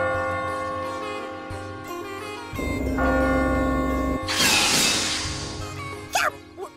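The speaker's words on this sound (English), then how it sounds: "What's that bell?" Church-style bell rings out at a train station in a fantasy video game, clear tolls over a steady game soundtrack, followed by a burst of magical effect noise.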